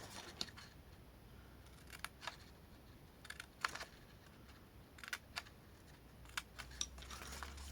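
Scissors snip the small sides of a cardboard box in a quiet room, giving several faint, crisp clicks and cuts spaced irregularly with near-silent pauses between them.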